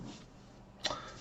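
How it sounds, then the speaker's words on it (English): A single short burp pops out once, near and sudden, against a quiet room background. "Burping."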